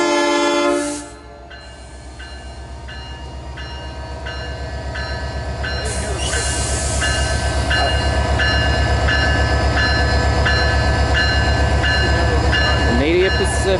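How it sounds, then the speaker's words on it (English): Canadian Pacific Holiday Train led by locomotive 2246 departing Wauwatosa, Wisconsin: a diesel engine rumbles steadily and builds as the train pulls away, horn blasts sound near the start, and wheels clatter over the rails as it rolls past. "the holiday train is leaving Wauwatosa right now"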